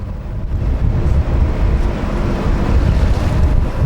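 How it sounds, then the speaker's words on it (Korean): Rough sea waves pound around a remote lighthouse island in the Yellow Sea, a steady, loud roar of surf and wind with no voices. "등대섬 북경렬비도는 파도가 심해 접근하기가 쉽지 않다."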